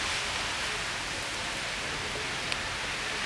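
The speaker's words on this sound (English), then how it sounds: "the rain." Rain pouring steadily outdoors during a severe thunderstorm, a dense even hiss of falling drops with a faint tap near the end and no thunder or voices.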